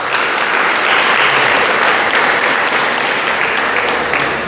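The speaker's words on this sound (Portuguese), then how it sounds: "dá uma salva de palmas para a palavra de Deus" A church congregation applauds during a sermon, a loud close burst of dense clapping that holds steady and fades slightly at the end.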